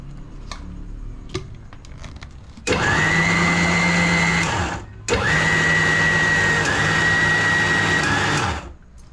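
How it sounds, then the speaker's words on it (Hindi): A mixer grinder blending cake batter whirs loudly in two long bursts with a brief pause between, a high motor whine over a churning rattle. "उसके बाद अब मिक्सी ला चला देबो।"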